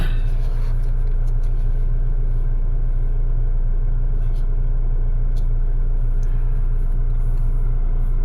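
A 2018 Volvo XC60 engine idles at a steady, even rumble with a constant low hum throughout and no revving or voices.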